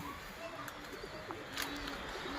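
A pigeon coos softly and intermittently close by at a home loft, faint low calls over a steady background hum with a few brief chirps.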